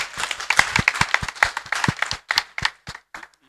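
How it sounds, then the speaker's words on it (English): An audience at an annual general meeting claps for a speaker, a close, uneven patter of individual hand claps that thins out toward the end. "Please, let's clap for Nyakio."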